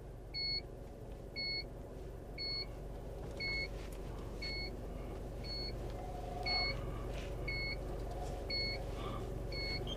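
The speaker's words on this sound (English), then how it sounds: "you'll also hear the parking sensors kick in" Short repeated electronic parking sensor beeps from a reversing car at a steady rhythm, about one per second, over a low engine rumble, fairly near and clear.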